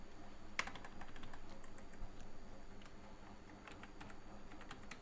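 Code being typed on a computer keyboard: a steady patter of fast, light key clicks close by, with one sharper tap near the start and a soft background hiss, no voices.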